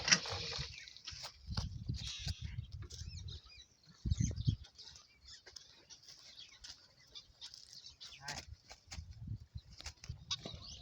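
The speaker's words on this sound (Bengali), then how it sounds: "এই যে কতগুলা শালিক পাখি আটকেছে দেখেন" Trapped myna birds flap their wings in short, scattered bursts of fluttering, some close and busy and others lighter, separated by quieter gaps.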